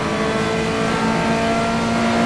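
Car engines rev hard during a police pursuit in Need for Speed Most Wanted (2012), a steady loud roar of racing cars with a constant engine drone and no speech.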